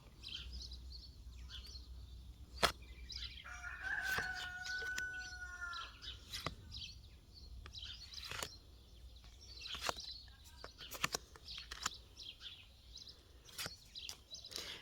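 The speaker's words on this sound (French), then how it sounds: "Si seulement ça pouvait chanter avec de la musique, un coq." Rooster crowing outdoors on a mild, bright day, a brief, moderately distant crow rising out of busy chirping birdsong and scattered clicks, with no talking.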